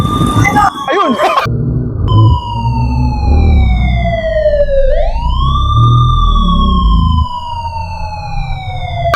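A loud police car siren wails near by, sweeping down then up in a long rising and falling tone over a rumbling engine, with voices and noise at the start.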